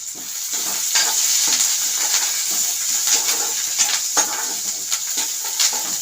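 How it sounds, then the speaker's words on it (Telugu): Onions and curry leaves fry in a pan with a constant bright sizzle, broken by frequent scraping stir strokes close by. "ఇలా ఫ్రై కావాలి. కొంచెం కరివేపాకు కూడా వేసుకోవాలి."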